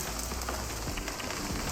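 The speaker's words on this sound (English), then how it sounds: "It's still raining" Steady rain falling in the game Jurassic World Evolution 3, an even, continuous hiss of drops on surfaces with no voices.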